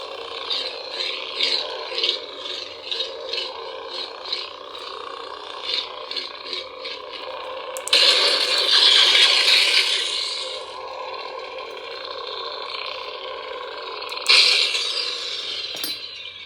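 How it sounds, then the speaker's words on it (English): A custom lightsaber's mechanical whirring hum with rattling, clicking texture rises into a loud buzzing surge on ignition, holds steady, then flares again before settling. "It's got a really cool wind up and wind down ignition."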